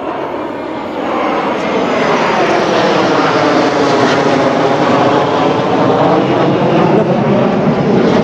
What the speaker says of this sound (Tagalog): Jet fighters.